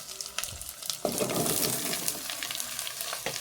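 Vegetables fry in a pan with a soft, steady sizzle, broken by a few sharp scraping and stirring knocks.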